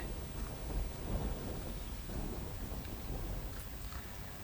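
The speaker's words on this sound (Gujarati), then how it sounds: "ધોધમાર વરસાદ વરસી રહ્યો છે" Heavy rain pours down steadily in Surat district, a dense, continuous wash, with low rumbles of thunder rolling underneath.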